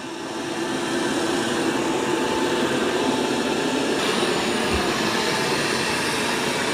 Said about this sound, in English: Okay, so now the Dreame is mopping.